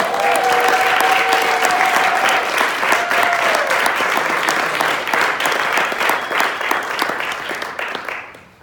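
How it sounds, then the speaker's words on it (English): An audience at a business development conference applauds loudly and continuously, with a couple of whistles early on, before the clapping dies away abruptly at the end. "Give her a round of applause."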